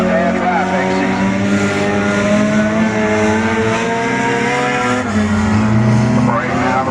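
Race cars circle an oval track during enduro qualifying at Beckley Motor Speedway, engines droning steadily and loud with shifting pitch as cars pass, under continuous announcer talk.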